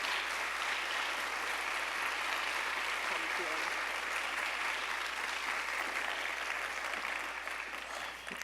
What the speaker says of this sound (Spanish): Le damos un aplauso a esta mujer extraordinaria.